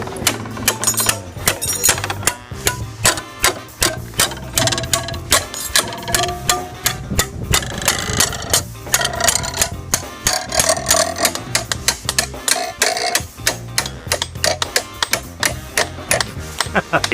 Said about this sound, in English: Sound of a chisel going in the crack.